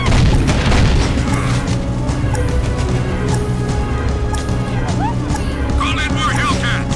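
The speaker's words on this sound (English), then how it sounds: "They're shooting at me!" Enemy gunfire in the PlayStation 3 game Jak 2, loud booming shots and crashes over a dense soundtrack, with a player talking over the action.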